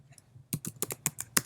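A computer keyboard is typed on while writing Python code: a quick run of about seven crisp, close key clicks in an uneven rhythm, with no talking.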